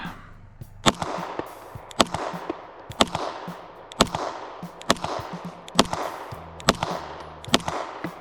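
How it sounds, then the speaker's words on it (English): A Staccato P 2020 edition pistol fired outdoors in a string of about nine loud, sharp gunshots at roughly one-second intervals, each with a short echo trailing off. "Last shot in the mag will be 20K down the pipe."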